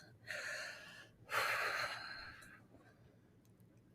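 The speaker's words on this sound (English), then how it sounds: "So you're going to take a deep breath" One deep breath during a relaxation exercise: a slow, audible inhale followed by a longer, fuller exhale, close and clear against a quiet room with no talking.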